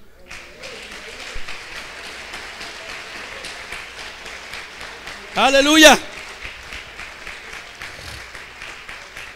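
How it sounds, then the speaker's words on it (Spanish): A church congregation applauds during a Spanish-language sermon, a steady wash of clapping that runs throughout, with a voice shouting briefly over it near the end. "denle un aplauso al Señor"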